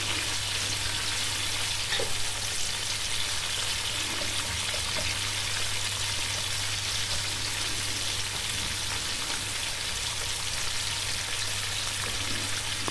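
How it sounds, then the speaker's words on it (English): Onions sizzle in hot oil for a turnip curry, a steady, close frying hiss that runs unbroken and evenly loud throughout with a low hum beneath it. "add the onions. Stir the onions into the oil."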